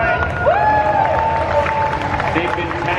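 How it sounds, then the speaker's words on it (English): A crowd at a Halo costume contest in Orlando applauds as the judges return to the stage, steady clapping and some cheering under a lingering electronic tone and announcer chatter. "Give them a round of applause."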